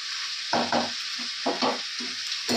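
Chicken stir-fried (kosha) in a hot pan gives off a steady bright sizzle, broken by several rhythmic scraping stirs that come in short bursts, close and fairly loud, with no talking.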